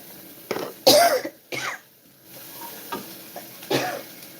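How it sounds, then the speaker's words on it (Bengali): A person coughs several times in short, separate bursts near a stove where spicy food is cooking, with a faint sizzle in the pauses between coughs. "এত ঝাল হয়ে গেছে মনে হচ্ছে কাশি চলে এসছে"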